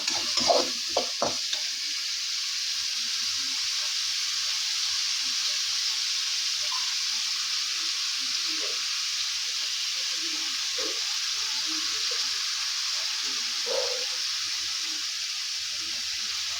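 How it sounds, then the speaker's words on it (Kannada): Onions sizzle in a pan while they fry to golden brown, a steady soft hiss running throughout. A few utensil scrapes come near the start and scattered stirring clicks follow, with no talk. "ಸ್ವಲ್ಪ ಚೆನ್ನಾಗಿ ಫ್ರೈ ಮಾಡ್ಕೊಳ್ಳೋಣ. ಆನಿಯನ್ಸ್ ಎಲ್ಲ ಗೋಲ್ಡನ್ ಬ್ರೌನ್ ಬರೋ ತನಕ."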